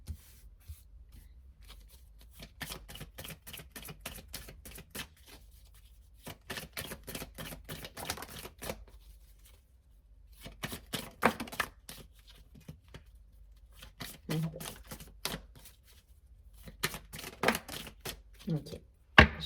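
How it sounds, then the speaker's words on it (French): Tarot cards are shuffled and flicked in bursts of crisp riffling and tapping, separated by quiet pauses, close and moderately loud. "Les cartes, elles virevoltent."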